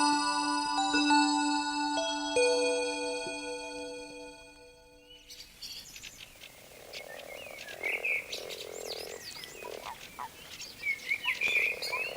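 Toads croak at their frenzied mating gathering while females lay eggs: rough, overlapping croaks and trills rise from a chorus in the second half, preceded by a sustained tonal ringing.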